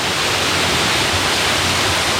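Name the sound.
water rushing down a canyon in Bali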